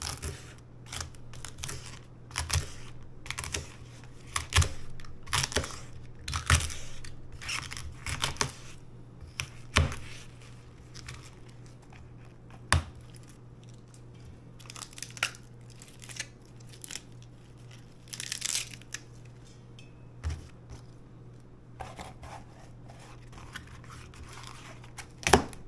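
A knife or blade trims old outer parts off a cabbage, giving repeated sharp crisp cuts and crunches at close range, irregularly spaced across a quiet background.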